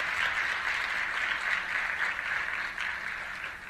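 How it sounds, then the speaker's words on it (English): Steady applause from an audience thanking panelists and pitchers at a youth Dragons' Den session, a dense even wash of clapping that holds at a constant level throughout. "Can we give a quick round of applause to all of our panelists"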